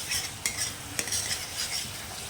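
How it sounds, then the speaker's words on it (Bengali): A spice masala for doi potol sautés in a pan with a steady hiss of frying, while a spoon stirs it with repeated scraping strokes and clicks against the metal. "ভালো করে নাড়াচাড়া করে মশলাটাকে ভালো করে কষিয়ে নিয়ে"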